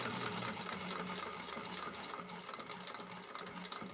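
A sewing machine stitches a clutch wallet interior in a steady, even whir that runs unbroken for the whole stretch at moderate, close range, with no talking.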